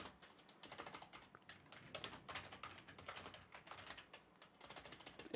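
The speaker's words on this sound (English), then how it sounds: "If I can actually type." Fingers type on a computer keyboard nearby in a fast, continuous patter of soft key clicks, with slight variations in pace throughout and no voices.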